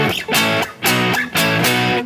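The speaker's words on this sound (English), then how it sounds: "Your bar chord should sound like this." A properly fretted guitar barre chord is strummed and rings out three times in a steady rhythm, each strum full and sustained.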